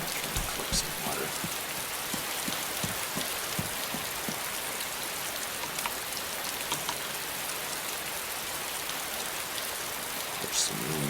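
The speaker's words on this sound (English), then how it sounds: "Catch some rain." Steady rain in the video game DayZ, a constant dense hiss of drops falling on surfaces, with a few scattered louder patters standing out near the start.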